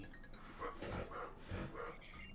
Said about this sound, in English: It's a puppy doggo.